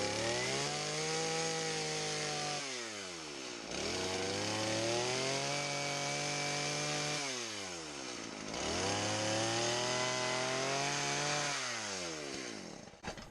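Chainsaw fitted with a dime tip bar carving a wooden skull, engine revving and bogging in repeated cuts with brief dips between them, loud and close with no talking.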